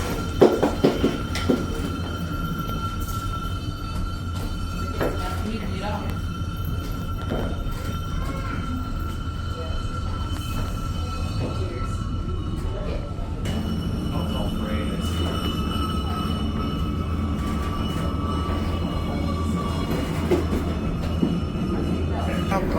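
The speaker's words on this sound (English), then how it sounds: "We are now going up the steepest part of the incline." The Incline Railway car in Chattanooga, Tennessee climbs the steepest part of its steep track with a steady mechanical rumble and faint rail whine, while a guide speaks over the sound throughout.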